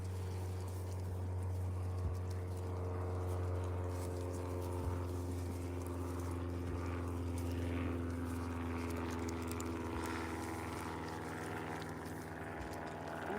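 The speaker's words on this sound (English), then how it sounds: "Some kind of plane flying overhead." A plane passes somewhere overhead above a ranch, a steady low droning hum with layered tones that holds evenly throughout, with faint outdoor background and no speech.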